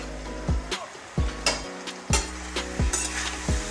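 A ladle repeatedly scrapes and knocks against a metal pot while bottle gourd curry is stirred, giving about eight or nine sharp clinks in an uneven rhythm over a low simmering background, with no talk.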